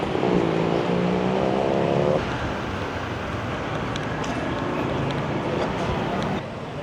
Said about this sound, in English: Oh, there's vehicles on the road, guys.